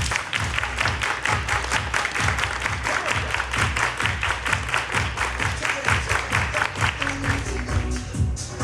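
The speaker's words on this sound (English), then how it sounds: "Everybody clap your hands" A group claps hands in a steady, repeated rhythm, many sharp claps close together with faint voices underneath.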